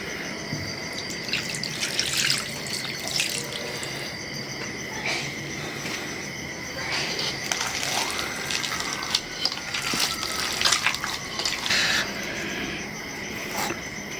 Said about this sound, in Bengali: এর ভিতরে দিয়ে দিলাম এই যে এক বোতল কেওড়া জল